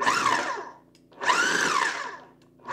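A food processor pulses pastry dough for pie crust in two short bursts of whirring blade noise separated by a brief pause, close and loud.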